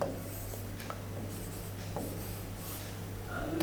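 Pen or marker scratching out a maths simplification problem on a writing surface, soft intermittent strokes and taps spread across a few seconds, close and quiet over a steady low hum.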